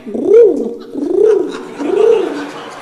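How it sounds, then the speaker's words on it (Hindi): Pigeons cooing in the morning nearby, three evenly spaced, rounded, throaty coos, each swelling and fading, loud and close. "पक्षियों का कभी कभी सुबह जब करता हूँ, इधर कबूतर आते हैं।"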